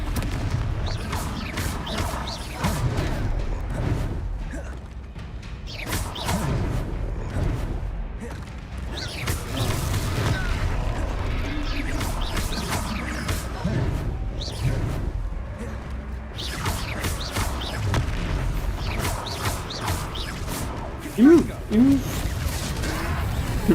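Fire spell explosions from Hogwarts Legacy burst again and again in a dense, loud mix of game effects, with booming blasts and whooshes running almost continuously.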